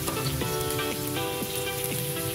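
Garlic fries in oil in a pan, a dense, close sizzle that stays loud and even throughout with no talk.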